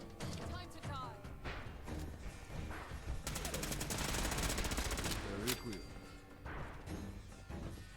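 Rapid automatic gunfire rattles through a Fallout 4 fight, with clustered bursts and a heavy stretch of continuous shots midway, mixed with a voice talking over the action.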